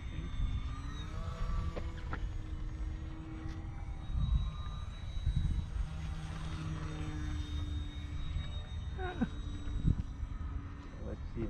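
A small scratch-built RC model airplane buzzes steadily overhead as it flies around and comes in to land, its thin propeller drone holding a constant level throughout, with occasional bits of talk from people nearby.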